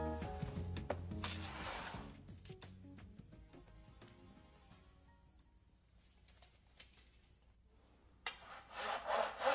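A fine-toothed saw cuts through a wooden kitchen plinth in quick rasping strokes, then pauses into near quiet before a fresh burst of sawing at the end, close and fairly soft.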